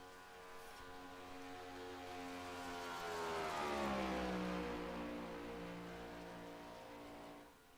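A race car engine rolls out of the pits at Talladega, a sustained harmonic drone that swells louder toward the middle as it passes, with rising and falling pitch, then fades slightly before cutting off.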